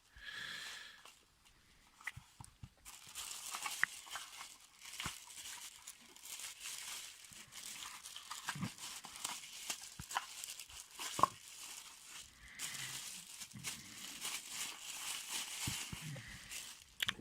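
A Takahashi LE 7.5mm eyepiece box and its packaging are handled up close, with intermittent crinkling, rustling and soft tearing sounds, plus occasional sniffs and light knocks.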